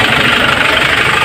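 A Hyundai Porter engine with low power and a fuel injector fault runs loud and close, with a rough, clattering knock pulsing rapidly and evenly throughout.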